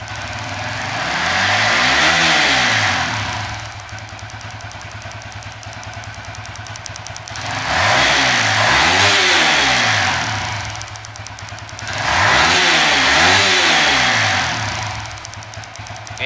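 A Suzuki FU 150 fuel-injected motorcycle with a bored-up engine on a stock ECU revs hard three times from a steady idle, each rise and fall loud and close, with no voices.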